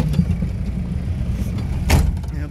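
A UAZ off-road vehicle crawls along in low-range gear, its engine giving a steady low rumble close by, with one brief louder surge partway through.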